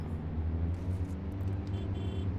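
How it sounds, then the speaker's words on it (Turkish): Car engine in the Streamer Life Simulator video game, a steady low drone with a constant hum and no talk. "Araba gidiyor."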